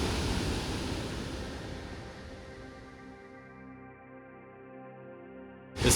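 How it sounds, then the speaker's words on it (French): Waterfall at Beana Gorge, a remote spot in Australia with deep swimming holes, giving a steady broadband rush of falling water that slowly eases and softens before a brief loud burst at the very end. "La dernière cascade d'Australie."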